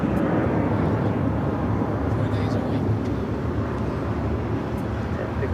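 A China Airlines Airbus A350 jet on short final to land at LAX, a steady, loud, broad engine roar that holds without a break, with faint voices in the background.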